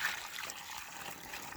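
Dirty water, actually leftover cleaning water, poured into a batch of cob mud at a cob dome build; a faint, steady trickle and splash runs through the whole moment without pause.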